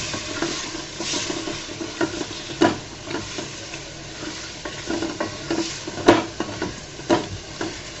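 Beef liver fries in a spice paste in a pan, with steady oily sizzling, frequent stirring scrapes and occasional clinks of a utensil against the pan, close and alone.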